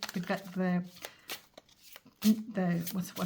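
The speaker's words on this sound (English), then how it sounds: "Let's shuffle a little bit more." Tarot cards are shuffled in soft, quick riffling bursts close by, while someone speaks at the same time.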